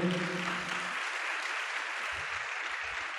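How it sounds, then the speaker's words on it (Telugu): A church congregation at a Sunday worship service claps loudly and steadily, a dense wash of applause that fills the room, after a voice briefly trails off at the start. "చప్పట్లు కొట్టండి గట్టిగా అందరూ."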